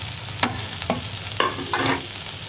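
Tomatoes are stirred into a frying chickpea masala, with four distinct scraping strokes of a spoon cutting through a steady background sizzle, close up and with no talk.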